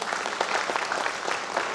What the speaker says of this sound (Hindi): आपकी ताली निरंतर बजती रहे।